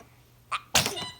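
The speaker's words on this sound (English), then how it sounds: "She sneezes and just honks the horn." A baby's small sneeze, followed moments later by a louder, fuller sneeze burst with a brief noisy tail, close to the listener.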